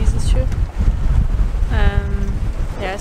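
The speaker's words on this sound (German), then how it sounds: "es wird auf jeden Fall windiger" Wind on a sailboat at sea, a continuous blustery rush buffeting the microphone, with voices talking briefly through it.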